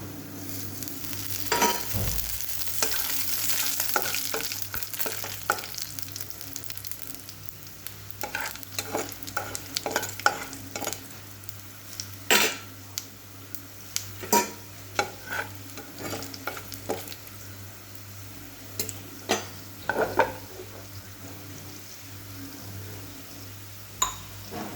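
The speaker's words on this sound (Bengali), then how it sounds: "তেঁতো ডালে আমি রাঁধুনি ফোড়ন দিই।" Radhuni seeds sizzle in hot oil as tempering for bitter gourd dal, a steady close-up frying hiss broken by frequent clinks and scrapes of a stirring spoon against the pan.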